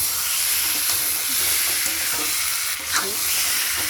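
A spoon stirs a potato and egg curry as it fries in a pan, giving a steady sizzle and hiss broken by light scraping strokes.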